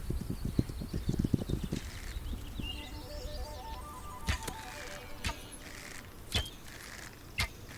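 A horse galloping in the survival video game This Land is my Land, with rapid hoofbeats that slow to scattered clip-clops, plus faint clicks and distant calls, no talk.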